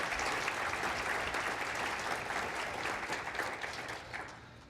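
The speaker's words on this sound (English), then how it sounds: "please give them a round of applause as well" An audience at a children's book festival gives sustained, even applause, a dense wash of clapping that holds steady and then tapers slightly toward the end.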